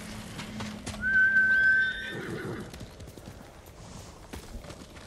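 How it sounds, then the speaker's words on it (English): A horse in the video game Ghost of Tsushima gives a single clear whinny over light hoof clops and faint game ambience, moderately close. "Oh, somebody's horse is up here."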